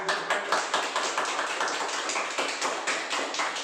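Hand clapping during a yoga class for Covid-19 awareness: a run of fairly regular, quick claps at moderate level, repeating steadily without talk.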